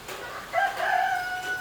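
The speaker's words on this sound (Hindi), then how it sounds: "मुर्गे देखो भाई पानी में कैसे दौड़ रहे हैं।" Roosters out in the rain, one giving a short, fairly close crow that rises and holds before fading.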